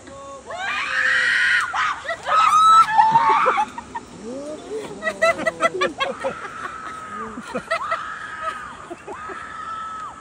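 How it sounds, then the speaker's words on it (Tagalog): Screams of fear from a rider on an adventure park ride in the Bohol countryside, loud bursts in the first few seconds followed by excited shouting and talk. "Yung una sigaw niya, halang takot."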